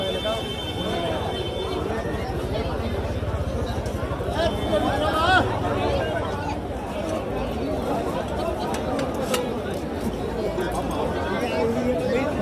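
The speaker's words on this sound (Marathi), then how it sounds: "सकाळी सकाळी 6:15ची गर्दी आहे." An early-morning crowd gathers at the ghats in Varanasi around 6:15, a continuous wash of distant chatter and shuffling movement with a low rumble running underneath throughout.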